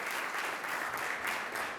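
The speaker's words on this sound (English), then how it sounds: "Let's give Mario Vargas Llosa a round of applause" An audience at an award ceremony applauds for a Nobel-winning author, a soft, continuous, even patter of many hands heard from a distance.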